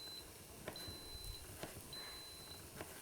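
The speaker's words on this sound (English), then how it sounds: "That beeping is telling us that the Instant Pot is heated up for our sauteing." An Instant Pot chimes a short series of faint, high electronic beeps as it finishes heating for sautéing, evenly spaced over a soft background hiss.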